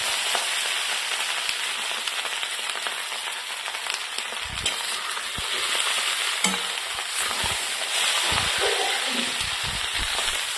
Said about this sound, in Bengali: এবার সবগুলোকে ভালো করে মিক্সড করে নেবো, কিছুক্ষণ মতন ভালো করে ভেজে নেবো।